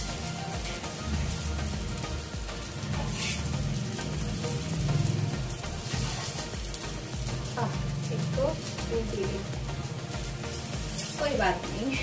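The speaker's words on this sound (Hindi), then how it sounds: "टिक्कियाँ हमारी हो रही है फ्राई, वो सिक रही है।" Tikki patties fry in an oil-filled pan with a steady, close crackling sizzle that runs throughout, with people talking over it.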